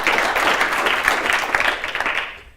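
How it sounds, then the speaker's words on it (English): A conference audience applauds an incoming speaker: close, lively clapping from a modest crowd with individual claps standing out, tapering off and ending abruptly at the close. "please give a round of applause for Sander."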